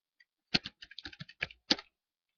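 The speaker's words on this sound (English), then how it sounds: "Sorry, I'm typing." Quick bursts of keystrokes on a computer keyboard, a dozen or so close clicks in an uneven rhythm, with quiet pauses around them.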